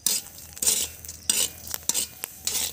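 Chickpeas roast in hot sand in a pan while being stirred. Bursts of scraping, rustling sand alternate with short pauses, and sharp little pops stand out over the gritty churning.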